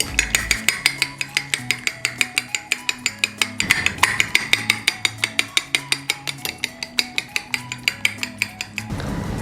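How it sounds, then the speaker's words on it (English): A spoon beats egg into a potato and cheese ball mixture in a bowl, making steady, rapid rhythmic clinks and taps close up, with a brief burst of mixing noise near the end and no talking. "Break the egg, mix properly."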